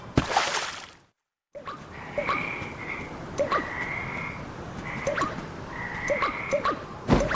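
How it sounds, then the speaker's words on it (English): Frog croak attack in the Visions of Mana video game: a burst of noise, a brief gap, then a run of repeated croaks and warbling calls over a steady rumbling bed, ending with another loud burst. "Palomina, Morley, the frog's croak is coming right at you!"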